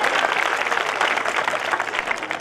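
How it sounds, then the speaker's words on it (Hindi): Audience at a Hindi poetry recital (kavi sammelan) applauding, a dense, steady wash of clapping from many hands that holds at even loudness throughout without a break. "तो फिर तालियां बजाओ।"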